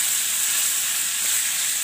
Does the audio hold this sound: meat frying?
yes